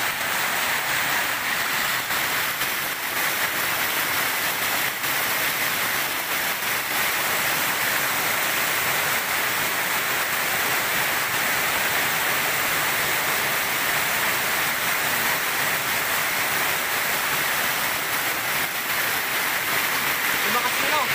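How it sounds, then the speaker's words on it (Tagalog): Strong rushing water roars continuously and close, a dense unbroken wash of noise, with voices faintly audible beneath it. "Ayan na, malakas ng tubig."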